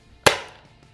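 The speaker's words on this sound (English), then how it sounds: "I just smacked the chronograph." A foam dart fired from a Dart Zone or Adventure Force blaster strikes a chronograph with one sharp, loud smack that rings out briefly.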